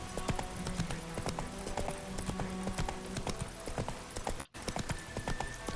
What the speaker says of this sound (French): le cheval met du temps à venir, en fait.